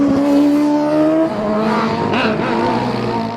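A student-built race car with a combustion engine roars close by, its engine note holding a high pitch, then dropping sharply as it shifts or passes, with a rough, loud mechanical drone continuing.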